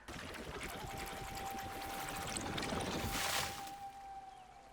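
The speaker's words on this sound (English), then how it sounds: "let's get some water bending going" A waterbending effect from the live-action Avatar: The Last Airbender series swells as a rushing, pouring water whoosh that builds steadily to a loud surge before easing off, with a thin sustained tone underneath.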